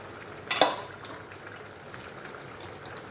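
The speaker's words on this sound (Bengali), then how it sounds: "ঢাকনাটা সরিয়ে নিলাম।" A metal lid lifted off a cooking pot of simmering cabbage and fish curry in a home kitchen, one short clatter near the start, then low bubbling and a faint clink later.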